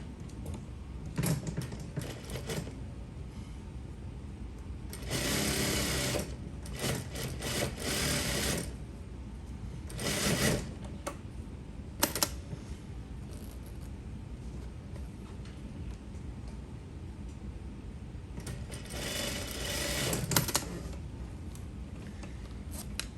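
A sewing machine stitches a zipper seam through fabric, running in several bursts of mechanical whirring separated by pauses, clearly audible and close, with no talking.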